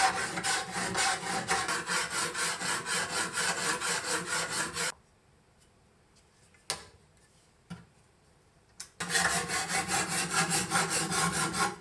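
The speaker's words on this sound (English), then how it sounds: "So now let's take an ordinary file and attach it to the jig here" An ordinary file clamped in a jig rasps along a machete blade in steady rhythmic strokes, loud and close, then a pause with a few scattered clicks and taps before the filing strokes resume.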